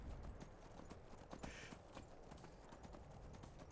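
Repeated horse hoof clip-clops on hard ground in the video game Skyrim, steady and close, with a brief louder scuffle partway through as the horse jumps a mountain face.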